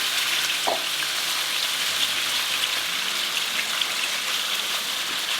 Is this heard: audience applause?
no